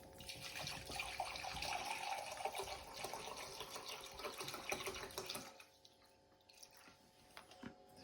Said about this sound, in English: We're going to start mixing in our jug with 1 litre of methylated spirits, which we'll measure out in the cup.